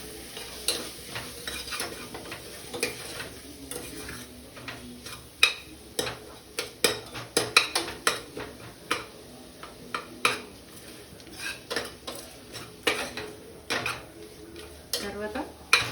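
Masala for paneer biryani being stirred and fried in a pan, a low steady sizzle beneath repeated clinks and scrapes of a metal spoon against the pan in an irregular rhythm.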